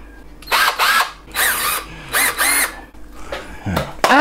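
Ozito compact cordless drill driving deck screws, several loud, close whirring bursts of about half a second each with brief gaps, ending in a rising spin-up.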